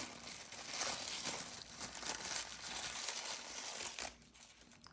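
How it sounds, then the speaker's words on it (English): Plastic and paper packaging crinkles steadily as a new Case two-blade pocketknife is unwrapped, a continuous close rustle that drops off sharply near the end. "So let's unwrap this knife and see what we got."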